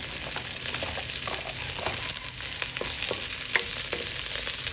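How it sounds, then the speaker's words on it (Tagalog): Garlic, onion and chilies sautéing in a pan give a steady, dense sizzle with scattered crackles and occasional utensil scrapes, loud and continuous, no voices. "saute the garlic, onion,"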